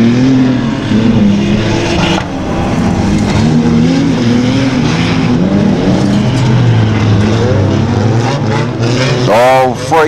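Rear wheel drive dirt rod cars race at Stansted Raceway, a continuous loud engine roar with shifting revs and a passing car sweeping by near the end, heard with commentary talk over it.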